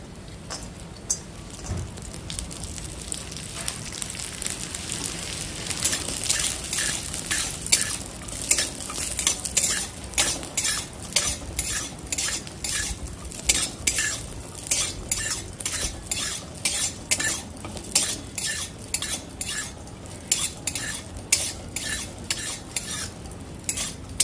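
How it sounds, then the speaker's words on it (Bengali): Cashews frying in hot ghee for a Bengali prawn pulao, a constant sizzle under rapid repeated clinks and scrapes of a metal spoon stirring in the pan, close and fairly loud, without speech. "ঘি গরম হয়ে গেছে প্রথমে দেবো কাজু"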